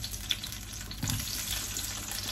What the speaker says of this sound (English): So with this loaded oil, I will now throw the tomatoes.